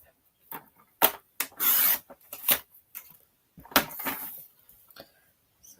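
Paper being trimmed down to a small square for a handmade Christmas card, heard as short scraping and rasping cutter strokes at close range, a few quick swipes and one longer drawn stroke, with no talking.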